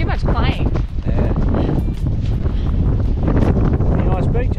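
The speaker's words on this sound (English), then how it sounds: "A bit windy today, but not too bad" Wind on an Australian beach thumps and roars against the microphone in loud, gusty blasts, with people talking intermittently beneath the buffeting.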